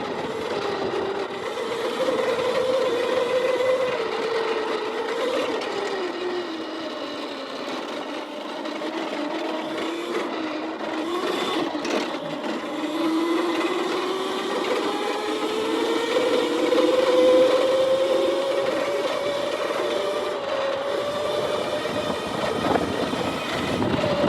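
An Aipas S1 budget electric motorbike rides fast down a rutted dirt road, its motor whining in a steady rising and falling pitch over rumbling wind and road noise, with no talk.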